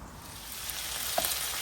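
Rohu fish pieces fry in a pan, giving a brief, steady, moderately loud sizzling hiss close by with a faint tick or two.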